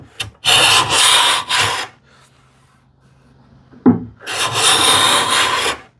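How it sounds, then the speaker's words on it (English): Hand plane taking a few quick swipes along the unplaned edges of a wooden board, each pass a loud rasping shave in short bursts, followed after a quiet gap and a knock by a longer sustained stroke. "These edges, they haven't been planed. So let me just take a couple of swipes"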